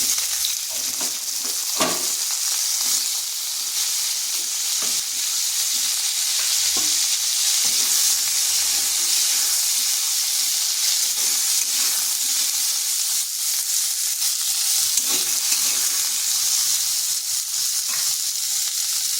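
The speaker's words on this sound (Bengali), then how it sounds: "ওই তেলের মধ্যেই দিয়ে দিচ্ছি কুঁদরিগুলো।" Ivy gourd (kundri) frying in hot oil in a pan, a continuous bright sizzle and hiss with occasional stirring knocks, close and steady throughout, with no talking.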